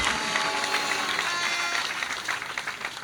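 A crowd at the commissioning of the rebuilt Imo State secretariat applauds Governor Hope Uzodimma with steady, sustained clapping that fills the room at an even level.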